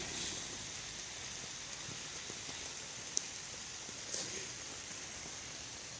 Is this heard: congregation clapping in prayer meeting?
no